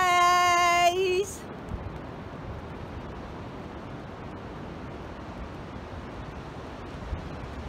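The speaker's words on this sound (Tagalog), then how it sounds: "Ayan na po ang dagat" Winter surf rolls onto a beach in Chiba as a steady, distant wash of waves mixed with wind rumble on the microphone, opened by a brief melodic electronic chime.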